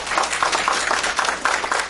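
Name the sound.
audience applause for Dr. Alessandro Santoro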